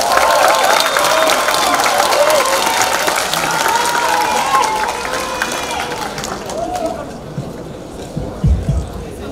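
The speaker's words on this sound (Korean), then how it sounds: "박수 부탁드립니다." Audience at a Democratic Party members' talk concert in eastern South Jeolla breaks into sustained applause and cheering, a loud crowd roar that slowly thins out near the end.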